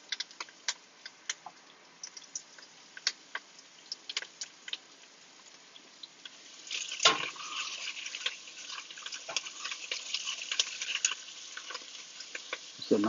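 Peppers and garlic cook in a pan for chicken tortilla soup, faint scattered ticks and pops at first, then a louder, steady crackling sizzle that begins about halfway and keeps going alongside occasional stirring clicks.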